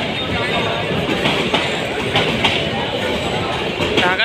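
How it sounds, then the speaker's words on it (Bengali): A Bangladesh Railway train hauled by locomotive 2322 runs from Dhaka toward Akhaura, packed with Eid passengers. A loud, close, continuous rumble and rhythmic wheel clatter, with occasional squeals. "Dhaka two Akhaura 30 kilometre train দেখতে পাচ্ছেন।"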